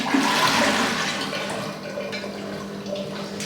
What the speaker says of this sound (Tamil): இப்போ நம்ம ஊற்றுவோம் கீழே.